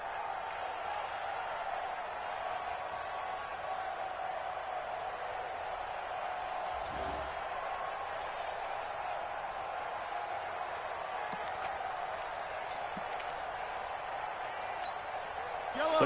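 Steady stadium crowd roar inside the Dome during an American football video game, a constant mid-level wash of noise with brief pings and a commentator talking over it.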